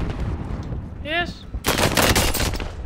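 Call of Duty Warzone gunfire, a rapid, loud burst of automatic shots in the last second or so, following a brief rising electronic tone from the game.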